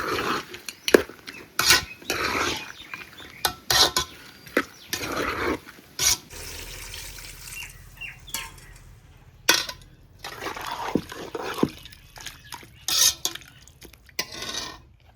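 Turmeric powder tipped into a pot of village-style mutton kulambu and stirred in, with repeated metal spoon scrapes and clinks against the pot and some liquid stirring, close and intermittent, with no talk.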